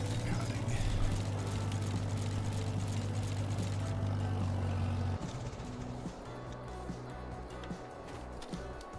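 A white Farmall tractor engine runs at a steady, loud drone close by, then drops to a lower, rougher idle partway through, outdoors with no talking.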